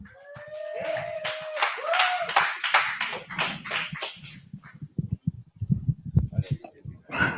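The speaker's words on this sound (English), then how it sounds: "Give a round of applause for Justin, everybody." Audience applause at a live comedy show, scattered clapping building into a burst of claps near the end, after someone speaking over a microphone.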